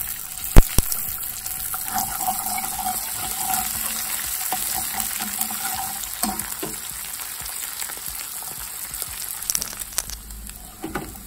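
An egg sizzles in a hot pan while seafood fried rice is cooked, with a steady crackling fry punctuated by sharp clinks and scraping stirs of a utensil against the pan.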